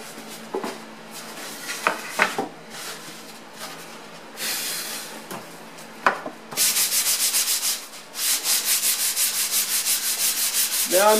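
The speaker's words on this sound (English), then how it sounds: "We'll hit it with some sandpaper and then we'll nail it on." Sandpaper rubs a wooden wall shelf in a woodshop, first in scattered scratchy strokes, then in a steady run of fast, rhythmic back-and-forth sanding passes, close and fairly loud.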